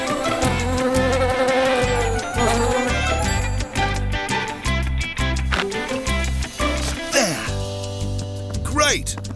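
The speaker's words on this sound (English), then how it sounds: "Right, Jess, let's get these bees to their new home." Buzzing of a swarm of bees in a children's animated episode, a dense insect drone running under constant background music and sound effects, loud and continuous throughout.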